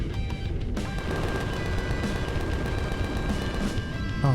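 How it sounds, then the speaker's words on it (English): Sustained gunfire in the space-survival video game Empyrion Galactic Survival, a dense continuous rattle of shots with a low rumble underneath, loud and unbroken, with no talking. "Now he's shooting."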